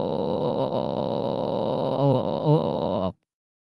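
A sustained eerie wailing moan, half crying and half laughing, comes from deep inside a cave, rising and wavering with sobbing catches, loud and close, then cutting off abruptly.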